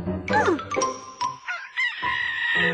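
A cartoon rooster on a farm crows loudly up close in a bright, wavering call, followed by jingly chimes and a sustained tone.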